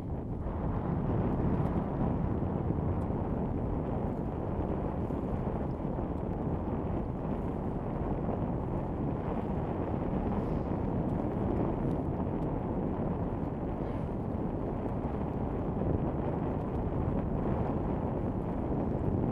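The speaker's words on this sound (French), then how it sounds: "on a un magnifique vent d'ouest" Strong west wind buffets the microphone aboard a sailboat in a constant low roar, with rushing air and water noise and no voices.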